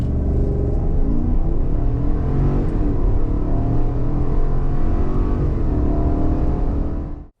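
A 2022 Chevrolet Tahoe with a naturally aspirated engine pulls away hard from a standstill, its loud, steady engine roar rising through the gears for about seven seconds before cutting off abruptly.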